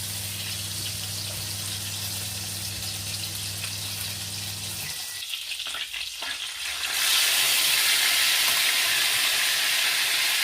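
Meat sizzles and crackles in hot oil and butter, a steady hiss that swells louder partway through after some stirring clatter, close by.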